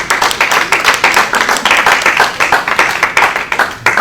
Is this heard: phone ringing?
no